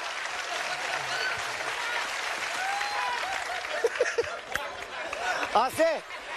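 A studio audience on a Bulgarian TV impersonation show claps steadily and loudly throughout, with cheering voices and shouts rising over the applause toward the end.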